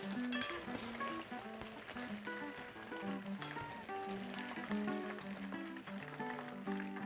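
Battered squid deep-fries in hot oil, giving a steady, busy crackling sizzle with dense popping bubbles throughout, fairly close and even in level. No talking.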